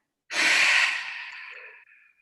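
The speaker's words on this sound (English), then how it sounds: "Inhale through the nose. Exhale through the mouth." A single long breath drawn in through the nose and let out through the mouth during a fitness flow class, a close, airy rush that starts strongly and slowly fades away.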